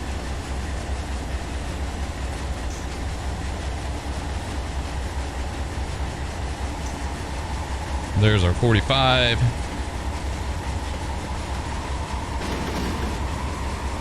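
A heavy freight train hauling rock in Run 8 Train Simulator, its engine drone and rail rumble running steadily throughout, with a brief burst of horn or bell tones midway while someone talks over it.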